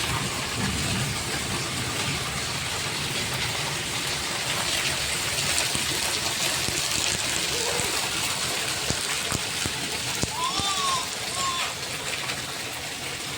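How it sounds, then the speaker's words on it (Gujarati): Heavy rain pours down steadily during a storm on a Navratri night in Gujarat, a dense, even wash of noise throughout, with faint voices in the background. "વરસાદ ચાલુ થઈ ગયો"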